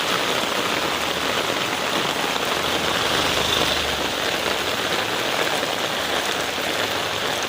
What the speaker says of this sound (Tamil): செம்ம மழை போங்க.